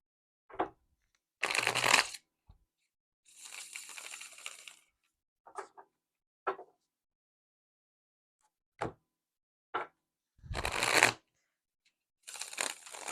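Bursts of playing cards being shuffled, riffled several times in quick separate flurries with quiet pauses between, close and crisp.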